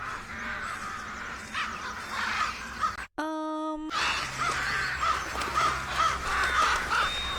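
Crows cawing in a dramatic fantasy TV scene, repeated harsh calls scattered over a steady background, with a brief bright tonal burst cutting through midway.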